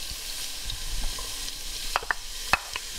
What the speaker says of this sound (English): First, I'm going to add our onions.